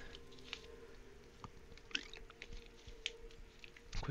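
A person taking a quick drink of water, faint wet gulps and mouth sounds with small clicks, close and quiet, with no talking.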